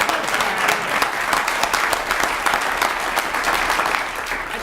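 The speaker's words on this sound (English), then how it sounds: "so we should give him a round of applause." Applause at a village board meeting for the mayor's birthday, an energetic, close round of clapping from a room full of people, loud and continuous before easing slightly at the end.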